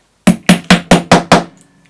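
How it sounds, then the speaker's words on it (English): Six evenly spaced hammer blows set a metal button into a posh cornered clutch bag, each strike sharp and close with a short ringing decay, the last few fading into a quiet tail. "And hammer in place."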